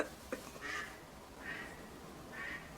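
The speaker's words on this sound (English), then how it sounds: "Now the duck won't shut up." A single duck outside quacks three times at an even pace, fairly faint and distant over a low background hiss.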